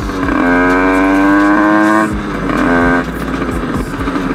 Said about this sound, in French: On entend le son de la moto